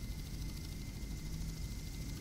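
A Little Bird combat helicopter flies in the Just Cause video game, giving a faint, steady engine and rotor drone that runs unbroken throughout, with no voices.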